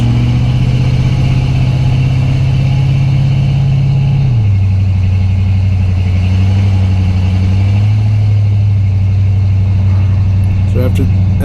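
A 1990 K5 Blazer engine drones steadily at high revs with little road movement, its pitch dropping abruptly partway through and settling lower as the engine stumbles, with faint clicks near the end.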